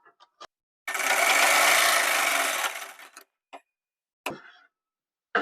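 Sewing machine stitching the sleeve of a collared blouse, a loud continuous run of about two seconds standing alone, followed by a few short clicks and handling knocks.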